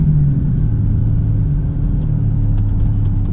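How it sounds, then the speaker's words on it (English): A Mercedes SLK32 AMG doing a small burnout, a loud, steady low engine rumble held close by throughout, with a few faint high squeaks toward the end. "Teeny burnout."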